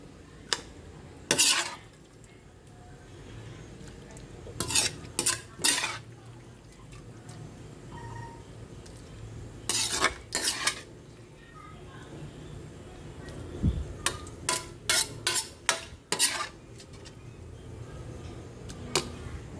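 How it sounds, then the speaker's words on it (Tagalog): Stir-fried chayote is scraped and spooned from a pan into a dish, with repeated sharp clinks and scrapes of utensil on metal coming in clusters, close by, among quieter pauses. "Isalin na po natin itong ating ginisang sayote."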